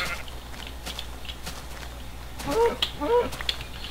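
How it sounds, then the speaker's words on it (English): Sheep bleating in the Minecraft video game, several short wavering bleats clustered near the end of the clip over a low steady background hum, moderately loud and close. "Immediately 3 more sheep spawn."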